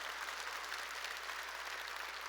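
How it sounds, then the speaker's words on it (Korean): A church congregation claps together during a sermon, steady dense applause from a large crowd heard at moderate distance with a constant low hum underneath, no voices standing out. "깨달은 사람만 박수 치라고."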